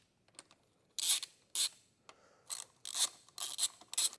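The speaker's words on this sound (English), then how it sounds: "Now using a 10 millimeter, go ahead and break loose the caliper bolts." A 10 mm wrench breaks loose the brake caliper bolts on a Yamaha YZ motocross bike, giving several close, sharp ratcheting clicks in short bursts with brief pauses between them.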